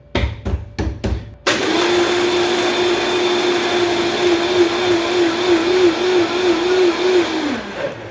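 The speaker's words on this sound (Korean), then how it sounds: "자, 블렌더를 닫고" A blender mixes Malibu, pineapple juice and crushed ice for a Blue Hawaiian cocktail. A few short taps come first, then a loud, steady whirring roar runs for about six seconds before winding down.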